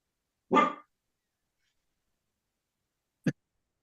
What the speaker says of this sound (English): sorry, it's my other dog.